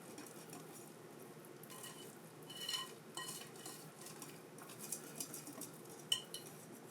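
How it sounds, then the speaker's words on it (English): Flour being stirred into banana bread batter in a bowl makes soft, quiet scraping and mixing strokes, with a few light clinks of a utensil against the bowl near the end. "So just mix that until it's well combined."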